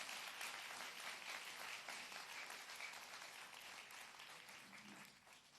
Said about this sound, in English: So I think we need to give her a big round of applause.